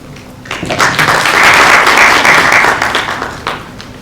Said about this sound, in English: let's clap again for Prof.